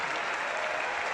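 At a women's EuroHockey field hockey match between Belgium and Belarus, a stadium crowd gives a substituted goalkeeper a sustained burst of applause that is dense and even across the whole brief moment.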